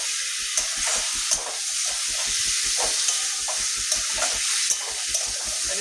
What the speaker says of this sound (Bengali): ভালোভাবে মিশিয়ে নেব নুনটা।